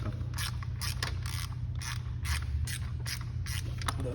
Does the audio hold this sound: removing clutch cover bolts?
yes